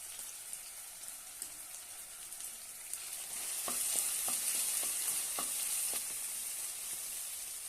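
Ginger-garlic paste sizzles in hot oil for a bitter gourd masala bhaji, a steady bright crackle that swells louder midway as stirring adds a few sharp scraping clicks, close and without voices.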